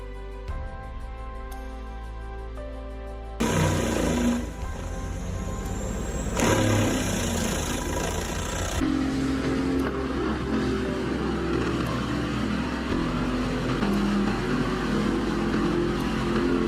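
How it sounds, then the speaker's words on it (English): Heavy roaring engine of a Bandit 2590 wood chipper shredding large logs and branches, a loud continuous drone that surges and grinds with changing load, steady throughout with no voices. "I am completely overwhelmed by the roaring engine of the Bandit 2590."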